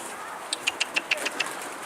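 Karabaş pigeon near a mosque minaret, heard as a quick run of about seven sharp, clicking bird notes over a steady outdoor hum, moderately close.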